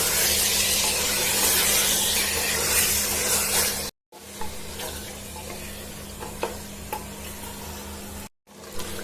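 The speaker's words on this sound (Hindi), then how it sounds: "हम कलेजी को अब बहुत अच्छे से भूनेंगे" Mutton liver fries with ginger garlic paste in a pan, a loud, steady sizzle heard close up, with scraping stirs throughout and two brief breaks in the sound.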